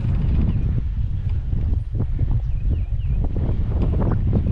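Continuous low wind rumble buffeting the microphone, with gusty surges and faint outdoor rustling, no one speaking.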